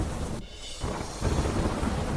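Thunder with heavy rain and strong wind, a deep rumbling roll over a steady wash of downpour, briefly dipping before the rain noise swells back.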